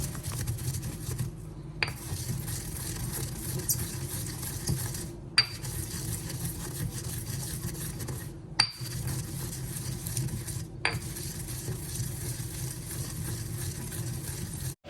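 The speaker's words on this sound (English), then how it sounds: "So I decided to use my mortar and pestle" A mortar and pestle pounds and grinds spices for kelewele, fried spiced plantain, in a home kitchen, with a continuous scraping rhythm broken by a few sharp knocks.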